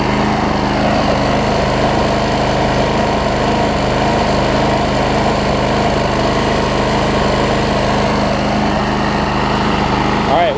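A Briggs & Stratton 5 hp Quantum engine on a Troy-Bilt push mower runs nearby with a loud, continuous buzzing drone that surges slightly.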